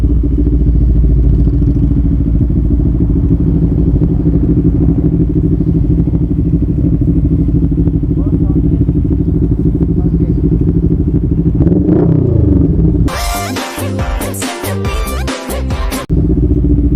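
A loud motorcycle, a CFMOTO NK400, rides on a road with a heavy, steady engine drone and wind roar. Near the end it breaks into a few seconds of choppy clatter and crackle.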